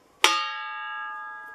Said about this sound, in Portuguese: Como essa bandeja se transforma no gongo